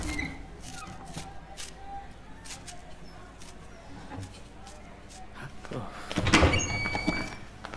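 A house door is opened with a clunk and rattle near the end, louder than the quiet household background. Voices are heard earlier.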